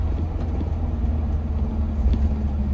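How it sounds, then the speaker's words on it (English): A lifted 2020 Ford F450 Platinum pickup on 37-inch tires over 22-inch wheels driving along, heard from inside as a steady low engine and road rumble at an even, moderate level. "I actually love driving a big lifted truck."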